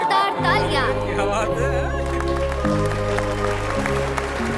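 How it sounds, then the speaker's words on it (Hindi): A crowd claps loudly and continuously in a dense, steady burst of applause, with voices and chatter mixed in. "Portable welding machine mister Paul stitch के लिए जोरदार तालियां।"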